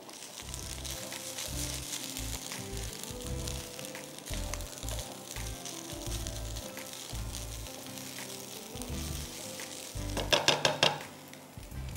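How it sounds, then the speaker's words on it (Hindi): Garlic frying in a pan for a tofu vegetable stir fry, a steady crackling sizzle underneath a low pulsing hum, with a short burst of sharper clatter near the end. "आई जस्ट वेट कि ये लहसुन फ्राई हो जाए"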